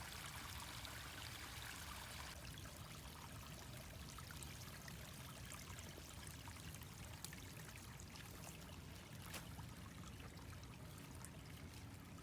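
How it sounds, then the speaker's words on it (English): A creek flows downhill toward the Grand River, giving a steady, full rush and trickle of water that stays close and constant throughout. "You can see how the water is moving downhill, and it's flowing at a nice speed."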